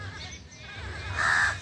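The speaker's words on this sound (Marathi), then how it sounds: "इकडं कावळ्याचे कावकाव चालू आहे" A crow caws once, fairly close and clear, over a low murmur of background sound and faint voice-like noise.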